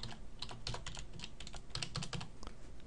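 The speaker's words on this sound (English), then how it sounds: "I'm going to type in my loopback IP address" Rapid, steady keystrokes at close range as an IP address is typed on a computer keyboard, with no speech.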